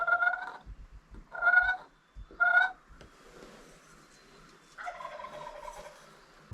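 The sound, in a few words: wild turkey gobbling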